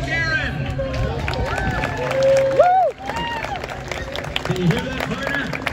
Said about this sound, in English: make some noise for Chuck Garin.